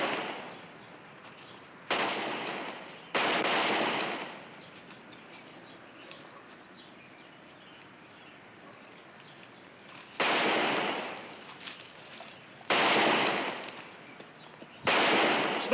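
Five loud gunshots ring out from a western TV episode, each a sharp burst with a short echoing tail, spaced irregularly over a low, steady background.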